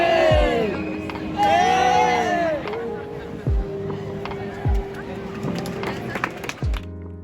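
A night crowd fills a Brussels town square with a lively mix of voices, shouts and whoops, with thumping footsteps or knocks now and then.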